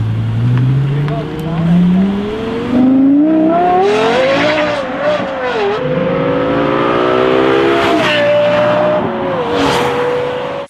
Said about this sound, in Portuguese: o LFA ainda hoje é considerado por muitos o melhor som já produzido por um carro de rua